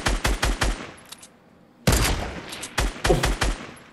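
Gunfire in Fortnite Battle Royale crackles in quick bursts of sharp, loud shots, a rapid volley at first, a brief lull with a faint echoing tail, then another burst of rapid shots.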